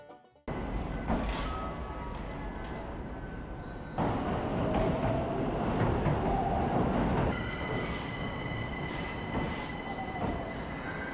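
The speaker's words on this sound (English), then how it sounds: "3 different trains are coming to the same platform" Trains roll into a platform at Shinagawa Station in Tokyo, a loud continuous rumble with wheel clatter, squealing tones and shifts as cars pass, close by, with no talking.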